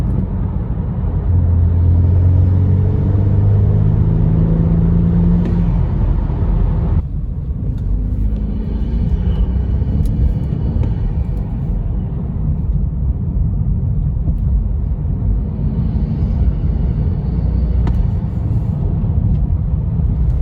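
A BMW F30 328i with the N20 turbo four and a CTS intake starts and idles up close, a steady low rumble that shifts in tone partway through and then holds evenly to the end.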